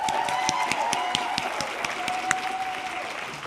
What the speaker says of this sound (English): another round of applause and congratulations to these outstanding cohort of students